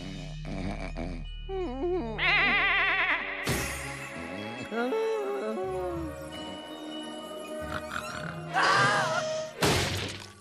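A cartoon goat gives wavering, bleating cries in short bursts amid loud, busy cartoon sound effects, crashes and music, with the animated bleats standing out clearly at a few points.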